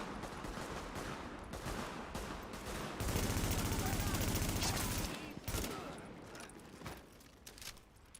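Rapid video game gunfire rattles in dense bursts, peaking in a sustained loud volley mid-clip before easing into scattered shots, with a voice talking over parts of it.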